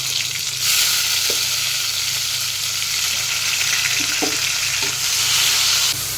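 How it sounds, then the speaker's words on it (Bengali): Cumin, garam masala and a bay leaf tempering sizzle steadily in hot oil in a pan, a loud continuous hiss with a few faint clinks of stirring underneath and no talking. "একটা প্যানের মধ্যে তেল দিয়ে একটু জিরা একটু গরম মশলা একটা তেজপাতা ফোড়নে দিয়ে দিলাম"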